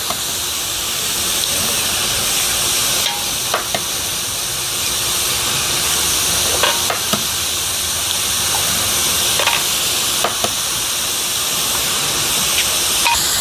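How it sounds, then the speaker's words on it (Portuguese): Chopped leek sautéing in a pan for a leek quiche filling, a steady broadband sizzle and hiss throughout with a few brief clinks of utensils, no talking. "enquanto o alho poró vai refogando aqui"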